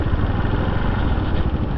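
Loud, continuous rumble of two nearby motorcycle engines, a dense steady drone that holds throughout.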